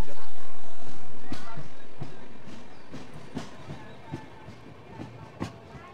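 A passenger train travelling between stations on an Indian rail line rolls along steadily, with rumbling carriages and a series of clicking rail-joint knocks that grow more distinct toward the end.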